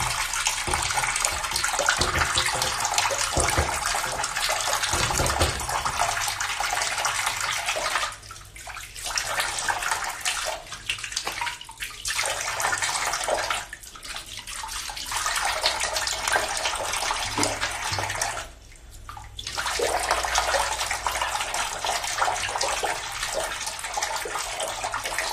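Tap water runs steadily and loudly while someone washes their forehead, a broad splashing gush that breaks off briefly a few times before resuming, with no voices.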